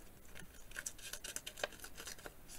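Small scissors on a keychain multitool snip through paper, giving a string of quiet, crisp cuts in an uneven rhythm. Each is a short, close snip with no voice over it.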